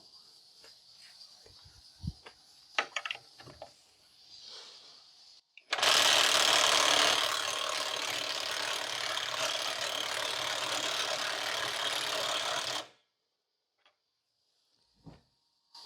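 A power tool drives a hex socket at its lowest speed and torque setting, making a loud, steady mechanical whirring that runs for about seven seconds, with a few clicks and knocks before it starts.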